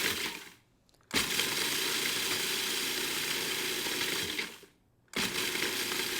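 Food processor grinding graham crackers into a fine crumb, a loud steady whirring buzz run in two long bursts with brief pauses between pulses, no talking.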